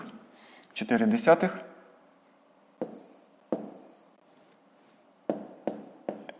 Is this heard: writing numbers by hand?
yes